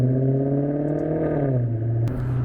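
Maserati engine revving, a steady rumbling exhaust drone that dips slightly in pitch, ending with a sharp pop near the end.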